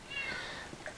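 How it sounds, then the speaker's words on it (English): A cat meowing outdoors, heard as a single drawn-out cry at a distance, thin and faint over low background hiss. "we have a cat outside who's meowing like crazy"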